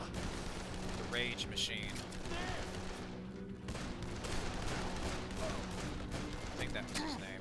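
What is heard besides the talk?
assault rifle gunfire in the video game Dead Island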